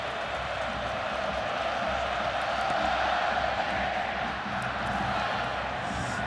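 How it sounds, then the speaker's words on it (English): Large stadium crowd at the 2010 Rose Bowl football game between Ohio State and Oregon: a dense, steady roar of many voices, a loud, continuous wash of cheering and murmur with no pauses. "The crowd settling back in after the intermission and the bands."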